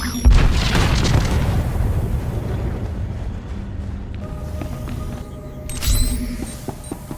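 A heavy boom erupts as the rebels' supply cache is blown up in the SWTOR game on Corellia, a loud blast followed by a long rumbling tail and a second thump with crackling debris.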